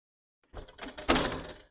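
An Anderson door, its lock actuator just repaired, opens and closes nearby with a sliding rumble, rattling hardware and a firmer thud as it shuts, no voices present.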